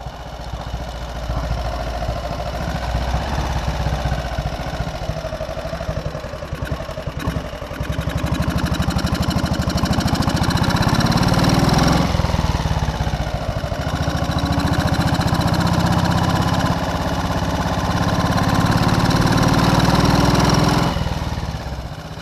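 A motorcycle engine runs rough while firing on only one cylinder, a loud, uneven mid-pitched chugging that rises and falls in intensity for over twenty seconds, close and alone.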